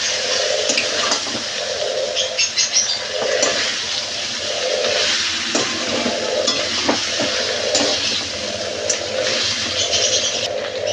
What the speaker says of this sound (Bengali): ভেজে রাখা কাঁকড়াগুলো দিয়ে দেবো আলুর সাথে। ভালো করে মশলার সাথে কষিয়ে নেব।